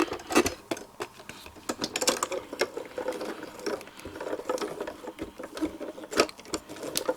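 A Diamond Press die-cutting machine cuts several dies at once, giving busy mechanical clicking and ratcheting with scattered sharp snaps throughout, fairly close and steady, with no talking.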